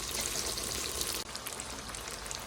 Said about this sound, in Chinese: 像这样子油已经都热了哈。 我们轻轻的把小饼全部都给它下进去。